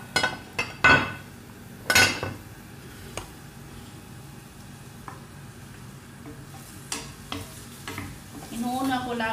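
Onions frying in oil for Arabic-style burgul rice: a steady sizzle with loud clattering of a utensil against the pan early on, then lighter stirring scrapes and clinks, no speech.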